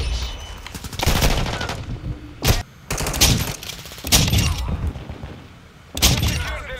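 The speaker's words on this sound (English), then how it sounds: "it's a shotgun" Loud, close shotgun blasts in a Call of Duty match: several sharp, heavy reports spaced irregularly, with rattling follow-up shots and debris crackle filling the gaps.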